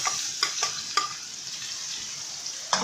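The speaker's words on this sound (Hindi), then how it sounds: "अब हम इसी ऑयल में ये बाकी की दाल फ्राई कर लेते हैं।" Moong dal sizzles steadily in hot oil in a home kitchen, a constant bright crackle with a few sharper scrapes from stirring.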